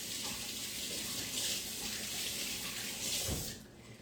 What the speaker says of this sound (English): I'm going to run over here to the sink, rinse this off my hands.